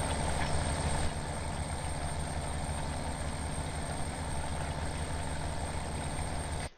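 A tractor engine idles in Farming Simulator 17, a steady, unchanging low rumble held throughout with no talk over it, cutting off abruptly at the end.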